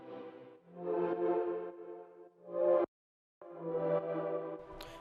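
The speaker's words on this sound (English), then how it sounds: "This is what the reverb alone sounds like." Sidechained reverb from an Ableton beat in a Kaytranada and Disclosure style plays by itself: lush, washy tonal swells that pump and duck in rhythm, with a brief dead-silent gap midway.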